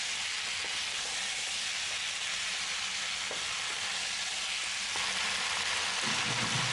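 Portuguese sausage, potatoes and carrots frying in a pan, a steady close sizzle and hiss that persists with no break and swells slightly near the end.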